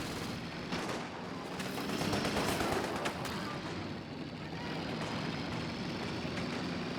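Vickers machine gun fire on a Universal Carrier in Company of Heroes 2, a 2v2 match, heard as rapid bursts and impacts that swell in the middle and sit under commentary over steady battle noise.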